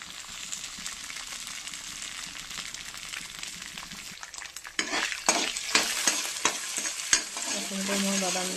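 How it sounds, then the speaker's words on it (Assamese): Peanuts frying in a little oil in a wok over a gas stove, starting as a quiet low sizzle, then louder rattling, scraping stirs repeat in an uneven rhythm over the hiss, up close. "তাতে অকণমান তেল দি প্ৰথমতে মই বাদামখিনি ভাজি লওঁ।"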